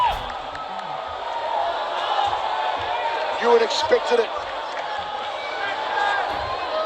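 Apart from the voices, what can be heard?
crowd cheering for fighter Kevin Belingon at ONE Championship bout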